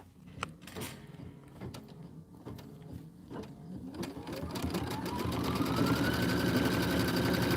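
A sewing machine stitching a quilt border sews back ten stitches, opening with a few slow clunking needle strokes that speed up into a steady, climbing mechanical whir.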